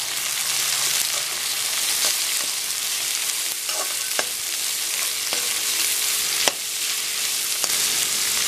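Beans, cabbage and ginger sizzle in a pan as they are stirred, a steady frying hiss with occasional scraping clicks of the spoon, close and alone.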